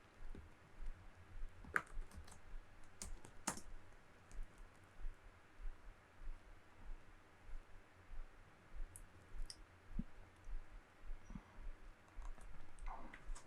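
Sparse computer mouse clicks tick softly while browsing a land parcel viewer, isolated single and double clicks spaced irregularly over quiet room tone.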